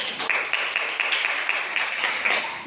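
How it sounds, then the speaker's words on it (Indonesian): A class of students applauding in a classroom, a steady stream of many hands clapping at moderate volume, fairly even and continuous from start to finish without speech. "Tepuk tangan dulu buat."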